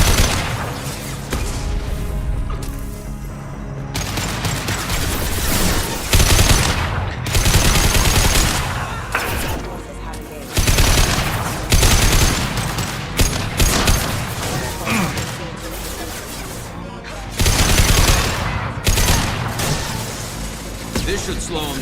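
Video game combat with rapid bursts of gunfire and booming shots, loud and continuous, overlapping with urgent shouted voices.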